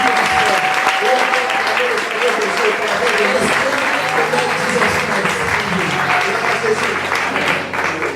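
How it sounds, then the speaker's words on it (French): A church congregation at a sermon applauds together in steady, dense clapping that stays loud and even throughout, with a few voices faintly mixed in. "Let's clap for him."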